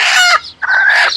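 Native country chickens cluck and crow in two loud, close bursts separated by a short pause, with no talk.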